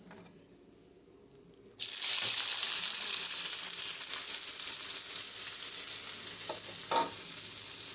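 Onions hit hot oil in a pan with a sudden loud sizzle after a quiet start, then keep frying in a steady hiss with occasional stirring clinks, no talk.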